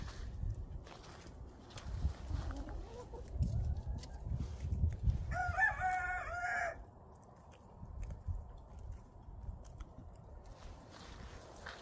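At a backyard chicken coop, a rooster gives one clear crow of about a second in the middle, with birds shuffling and scratching nearby before and after, and quieter ambient farm noise around it.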